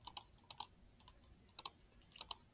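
A computer mouse clicks quietly in paired taps, several quick double clicks spaced irregularly against faint background hiss.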